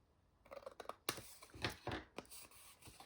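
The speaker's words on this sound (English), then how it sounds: "Hopefully I can get a nice straight cut." Scissors snipping through paper while trimming a 6x6 angle-shaped pocket insert for a paper craft, a quick run of close, crisp cuts that grow louder and faster after a quieter start.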